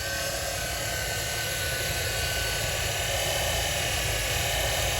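A 1961 Chevy camper engine with a dying alternator runs steadily, blowing out past its valve cover with a loud, continuous broadband roar and no talking.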